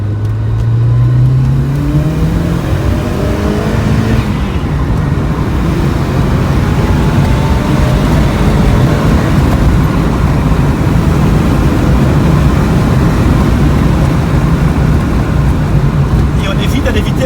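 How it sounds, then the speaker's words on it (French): A Lancia Delta Integrale Evolution 2 pulls hard in second gear, the engine note climbing loudly from inside the car and then holding a roaring, rushing drone under road noise. "On va faire une petite accélération ici en deuxième vitesse."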